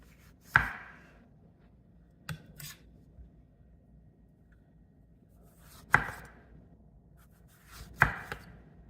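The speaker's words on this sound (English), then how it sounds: "let's go ahead and slice up our tomatoes" Green tomatoes being sliced with a knife on a cutting board: three sharp, close chops spaced a few seconds apart, with a couple of lighter taps in between and no talking.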